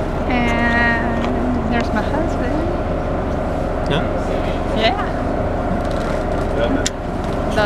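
Boat engine on a sunset dinner cruise off Hawaii, a steady loud drone that holds throughout with a faint whine on top, and voices mixed in.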